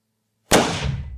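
A single loud, close gunshot from a SAKO TRG-22 bolt-action rifle bursts out of near silence and decays in a short rolling echo.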